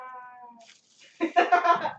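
A house cat gives a drawn-out tonal meow, then a louder, rougher yowling call follows after a short pause, close and clear in a quiet room.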